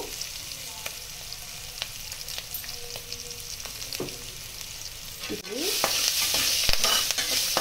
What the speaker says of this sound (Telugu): ఈ తాలింపు బాగా వేగిందండి